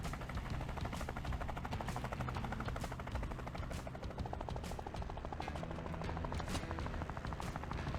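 Helicopter in the Off The Road Unleashed video game, a steady rapid rotor chop with constant engine whine, unbroken and fairly quiet throughout, no talking.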